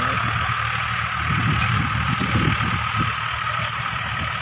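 A Swaraj 744 tractor engine runs unloaded nearby with a steady, throbbing diesel chug and a faint knocking rumble, holding an even level throughout with no voices.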